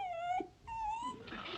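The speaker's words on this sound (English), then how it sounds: "Sounds like Daisy Bell, the miller's dog." Daisy Bell, the miller's dog, lets out two drawn-out whimpering whines, high and tonal, separated by a short pause, fairly close and clear.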